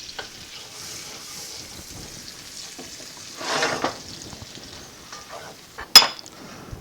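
Minced garlic and onion sautéing in a pan, a soft steady sizzle with a louder stirring burst midway and a sharp clink of a utensil against the pan near the end, no talking.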